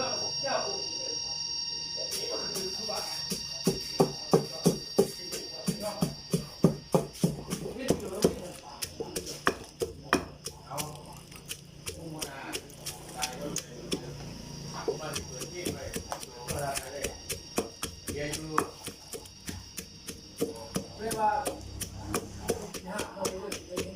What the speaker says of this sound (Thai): มาโขลกกันเลยครับ